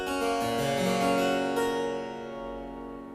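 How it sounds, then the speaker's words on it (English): A harpsichord's upper manual plays a short run of plucked notes with a slightly brighter, more metallic voice, each attack ringing out and fading softly with nothing else heard. "The upper manual has a different character or voice and sounds slightly brighter."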